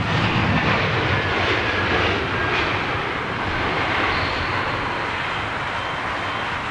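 Broadband roar from an Airbus A321 airliner landing in a crosswind at Heathrow, steady and moderately loud, slowly easing off with no voices.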